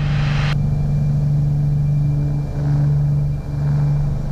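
A Piper PA28R-201T turbocharged single-engine plane's engine runs at full takeoff power, a loud, steady, droning roar with a constant low hum that holds throughout, with a brief high hiss at the very start.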